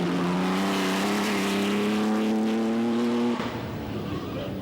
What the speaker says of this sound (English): a look at R4D, perhaps the fastest ERA ever built, seen here at the Goodwood Festival of Speed in the hands of John Harper.